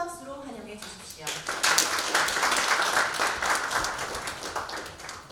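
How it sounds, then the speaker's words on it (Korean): Audience applause welcoming the chairman to speak at a Korean cultural event after a traditional gugak music performance, rising from a brief announcer's voice into sustained, dense clapping that stays steady to the end. "여러분 모두 큰 박수로 환영해 주십시오."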